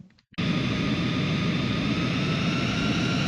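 An F-22 fighter jet in the video game Ace Combat 3 kicks in abruptly after a brief silence, then holds as a loud, steady jet engine roar.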